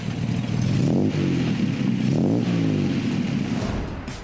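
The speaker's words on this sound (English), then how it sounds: "The spectacular sound and sumptuous power are the work of the BMC C-Series engine," An Austin Healey with a BMC C-Series engine revs hard, its loud, close exhaust note rising and falling in two sweeping surges over a deep rumbling idle, alone without speech.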